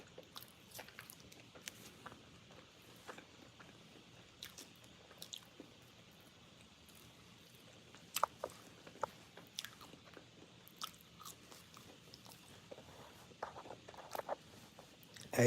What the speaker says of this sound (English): I just start chewing extra loud while I'm eating